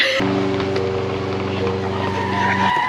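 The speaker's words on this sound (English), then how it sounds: "Brake sound, rewind sound." A short squealing, grinding tone holds steady for a couple of seconds, then cuts off abruptly, like a screeching brake effect.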